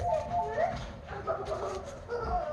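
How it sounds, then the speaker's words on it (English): Dogs inside a house yip and whimper in short, scattered bursts through the whole stretch, moderately near, with some faint household noise around them. "My kids have let the dogs in the house."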